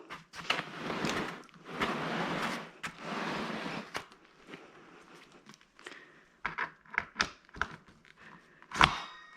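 UPPAbaby Ridge or Mountain Buggy Terrain pushchair wheels being fitted, with scraping and handling noises, then a series of sharp clicks and knocks and one loud snap near the end.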